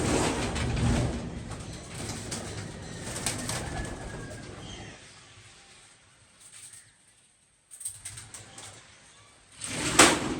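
Pigeons kept by a breeder coo softly nearby, with rustling and a brief knock partway through, then a louder flutter at the end; no one speaks.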